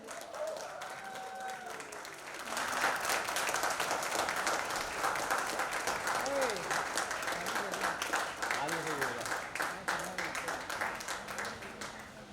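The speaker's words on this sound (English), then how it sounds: "let's give a massive round of applause to the man of the hour, Mr. Rajan Shahi." Audience applause greets Rajan Shahi at a celebration marking five years of the TV show Anupama. The clapping swells from light to a full, steady roar that holds loud for about ten seconds, with voices mixed in.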